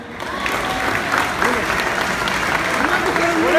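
An audience at a San Mateo fiesta in Passaic, New Jersey, gives the 2019 committee a loud, sustained burst of clapping that swells toward the end, mixed with shouting voices.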